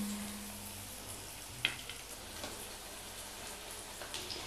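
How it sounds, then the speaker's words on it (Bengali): Chicken rings fry in hot oil over a medium flame, a faint, even sizzle with light crackling and one brief sharper pop near the middle, no voices. "তেল গরম হয়ে গেছে, এরপর চিকেন রিংগুলো ভেজে নেব।"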